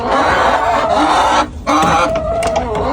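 Backyard chickens cluck loudly and continuously at close range, with overlapping calls and a short lull partway through.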